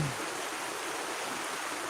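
Belawan River flowing: a soft, steady broadband rush of moving water, faint and continuous for the whole stretch, with no voices over it.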